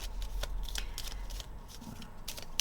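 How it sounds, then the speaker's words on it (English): A deck of playing cards being shuffled by hand, giving close, crisp riffling bursts in quick succession, with a soft thump near the end. "Alright, we are going to shuffle these."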